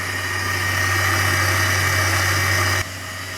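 An electric mixer whisks cream cheese with vanilla extract, giving a loud steady motor hum close by that cuts out abruptly near the end.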